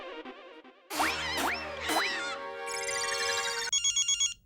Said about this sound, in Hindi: अभी तुम्हें किसका फोन आया?